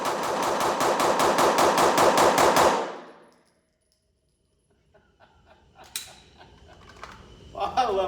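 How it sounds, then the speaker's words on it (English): A Glock 19c Gen 4 compensated pistol is fired rapidly, a magazine emptied in a fast, even string of about fifteen loud, close shots over nearly three seconds, followed by quiet and then people talking with a light laugh. "Then I'm gonna fire as many rounds as I can into the head, or a magazine full into the head as fast as I can."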